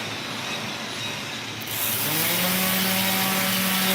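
Stainless steel being sanded with 100 grit abrasive, a steady broadband grinding hiss that jumps louder partway through and holds a constant tone, close and continuous with no talking.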